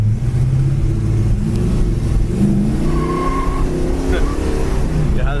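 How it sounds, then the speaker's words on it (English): A 1970 Plymouth Road Runner with a 440 engine runs loud and steady, its low rumble rising and falling as it revs, with a faint squeal near the end. "Yeah, this car is just wild. That 440 just wants to go."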